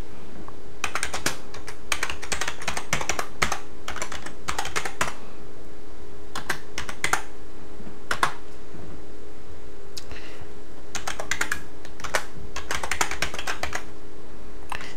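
Someone types on a computer keyboard in rapid clusters of key clicks with short pauses between bursts, close and steady over a constant low electrical hum while entering commands.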